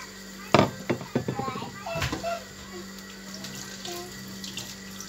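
Water pours and splashes steadily into a cooking pot nearby, with a few clanks and children's voices faintly in the background.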